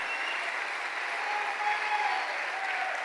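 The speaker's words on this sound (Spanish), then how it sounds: "Démosle palmas al Señor." A church congregation claps for the Lord in sustained, dense applause, steady and even throughout with no clear break.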